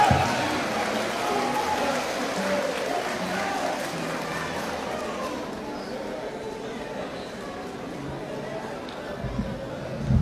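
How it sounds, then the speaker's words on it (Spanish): Dense, steady applause fills a large graduation closing ceremony, mixed with crowd chatter, slowly easing off over about ten seconds. "Que se escuchen los fuertes aplausos."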